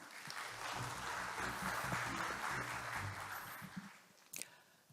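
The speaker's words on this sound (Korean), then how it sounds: "큰 박수로 맞아주시기 바랍니다" A seated audience at a research-group launch ceremony gives faint, steady applause welcoming the next presenter, with a brief sharper clap near the end as it fades.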